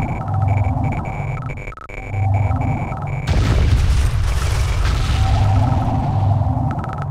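A cluster missile strike explodes in C&C Tiberian Sun Firestorm, a loud sudden boom that swells into a sustained rumbling crackle after a few seconds of droning game ambience.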